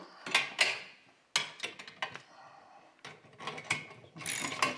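A hand ratchet clicks in quick bursts while bolts are tightened during assembly of a tow-behind lawn aerator, several short close runs of rapid ticking separated by pauses.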